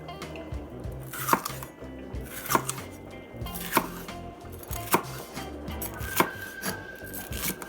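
A knife cuts deseeded peppers into strips on a board, giving about six crisp, evenly spaced chops roughly a second apart over a soft background.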